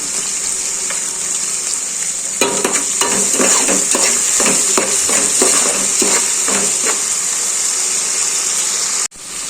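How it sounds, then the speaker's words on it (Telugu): Onion, green chilli and curry leaves frying in a pan, a steady bright sizzle throughout with a run of stirring scrapes and taps in the middle, close and loud, ending abruptly. "ఉల్లిపాయ పచ్చిమిర్చి కరివేపాకు బాగా మగ్గుతుందండి"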